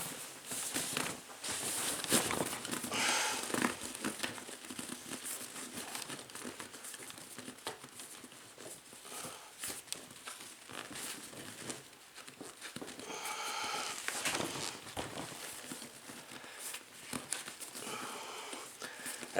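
Flimsy, pliable aftermarket plastic J trim being worked onto a 1996 Impala SS front seat cover bottom, giving close, continuous crinkling and crackling with scattered sharper snaps and rustles throughout, no speech.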